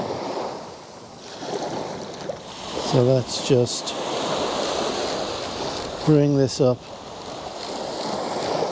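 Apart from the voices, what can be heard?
ocean waves at the shore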